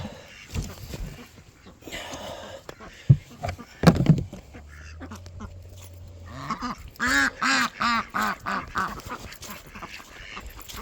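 Ducks quacking inside a steaming duck house on a dark homestead, bursts of harsh nasal calls rising to a close, loud run of repeated quacks near the end, with thuds and a low hum earlier.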